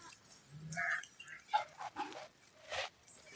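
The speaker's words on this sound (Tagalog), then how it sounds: "Aso lang pala." A dog somewhere outside gives short scattered whimpering yelps and a bark, moderately close, between quiet pauses with no talk over it.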